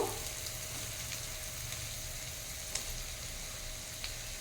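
Halved green chillies, onion and ginger-garlic paste fry in hot oil for a spicy prawn curry, giving a steady close sizzle with a couple of faint stirring clicks and no voices.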